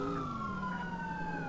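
A police motorcycle siren in the video game GTA San Andreas wails continuously with a slowly falling pitch over a steady engine drone, heard alone without talk.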